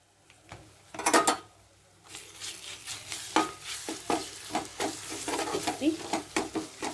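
Crab curry with ginger garlic paste is stirred in a pan, and a soft simmering sizzle is broken by repeated close utensil scrapes and clinks in an uneven rhythm.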